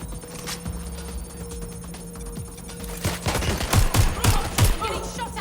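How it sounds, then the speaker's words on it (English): Gunfire in Watch Dogs: Legion, starting as scattered shots and building into a rapid, loud burst of automatic fire near the end, over a steady electronic hum with brief voice snippets. "Getting shot at here!"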